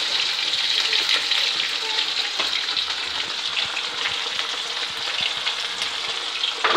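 Marinated chicken pieces sizzling steadily in hot oil on a hot pan, a loud close hiss with occasional crackles and stirring clicks, with no voices.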